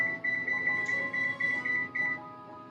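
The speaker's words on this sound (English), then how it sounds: "Let's set the timer for 10 minutes, right?" A kitchen oven timer is set to ten minutes, giving a loud, close series of repeated high electronic beeps in quick bursts over a low background hum.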